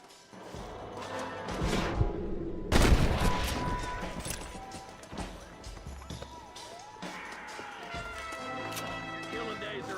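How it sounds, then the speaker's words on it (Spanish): Gunfire in a cowboy video game shootout, a cluster of sharp shots and crashes rising to a loud peak and then trailing off, with game voices and music around them. "Qué balazos, güey. Qué balacera, amigo."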